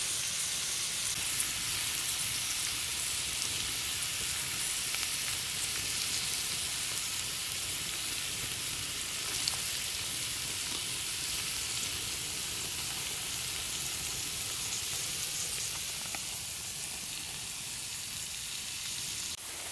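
Chopped onion browns in a pan over a Swedish-candle log campfire outdoors, giving a steady, even sizzle and hiss that lasts the whole time at moderate volume, with no speech.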